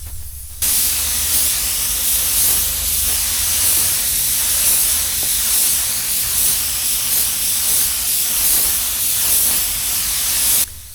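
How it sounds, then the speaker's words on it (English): Spray gun painting a car body repair area during DIY dent repair with primer and paint: a loud, steady hiss of atomized spray running almost continuously, starting and stopping abruptly, with no talking. "When using the spray gun, make sure to keep it about 8 inches away from the surface you are painting."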